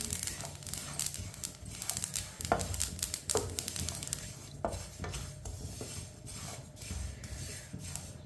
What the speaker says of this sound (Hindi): आप देख सकते हैं तिल को मैंने चम्मच चलाते हुए हल्का सा ब्राउन कर लिया